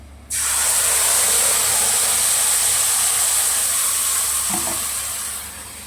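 Marinated hilsa fish drops into a pan of hot oil tempered with cumin, bursting into a loud, steady sizzle that holds close and strong, then eases slightly toward the end.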